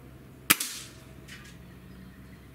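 A single sharp crack rings out from a Gamo Hornet Maxxim .177 air rifle, loud and close, with a short decaying tail and a faint follow-up thud.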